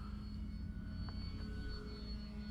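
An OMP Hobby Bighorn 49 RC plane cruises at half throttle on a hot day, giving a steady, faint electric-motor drone with a constant pitch throughout.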